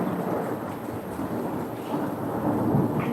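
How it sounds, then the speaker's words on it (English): Thunder rolls through a storm as a continuous low rumble over the hiss of falling rain, steady and fairly close for about three seconds with no voices. "I just love thunder"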